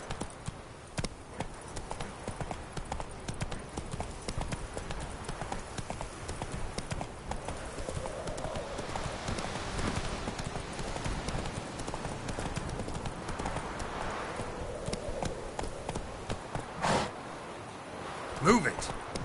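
Horse hooves clip-clopping in a steady galloping rhythm in the video game The Witcher 3: Wild Hunt, loud and continuous throughout with a voice speaking over it.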